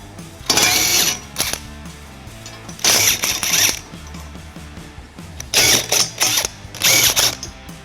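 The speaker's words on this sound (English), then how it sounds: "I'll be using an 11/16 socket." A hand ratchet fitted with an 11/16 socket loosens the end brackets during a trailer hitch installation on a 2022 Toyota Sienna. Four bursts of rapid, loud clicking ratchet strokes sound up close, with quiet pauses between them.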